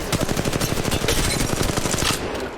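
Enemy automatic gunfire in a shooter video game during a solo ranked match: a loud, dense, rapid stream of close shots rattling on without pause for over two seconds, then easing off slightly at the end, with no voices.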